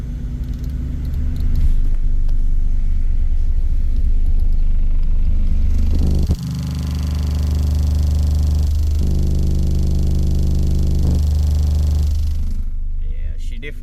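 Two DD815 15-inch subwoofers in an infinite baffle box play a deep bass tone during an SPL test, a loud rumbling drone that cuts out briefly and resumes, with distorted, bottoming-out low-end.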